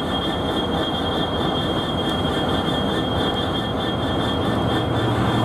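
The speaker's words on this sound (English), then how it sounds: "They're loading these trains up here." Freight trains being loaded with shipping containers at the Freightliner terminal in Southampton docks produce a steady, loud rail rumble with squealing wheels and a constant high metallic whine, running unbroken throughout.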